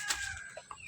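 Chickens on a farm give a few short clucks, close by, over a faint outdoor background.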